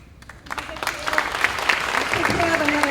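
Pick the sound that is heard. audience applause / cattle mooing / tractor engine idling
audience applause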